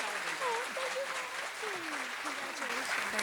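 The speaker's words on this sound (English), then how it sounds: "Please give Dorothy a big round of applause." An audience applauds at an evening community tribute, a steady wash of clapping, while a voice speaks faintly over it.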